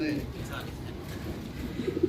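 Soft coos rise from a flock of racing pigeons loaded in crates at a race loading station, under a constant low rumble and murmuring voices.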